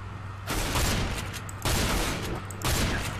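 Counter-Strike: Global Offensive gunfire comes in three dense bursts of rapid shots, loud and close, with short quiet gaps between them.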